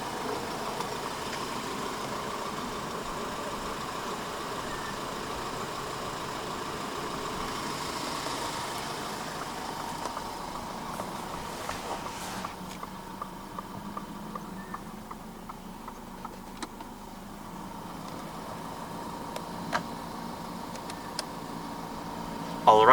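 A 2024 Ford Ranger Raptor High Rider double cab with the 2.0 engine idles steadily after start-up, a low, even hum held close by with faint clicks and small knocks scattered over it.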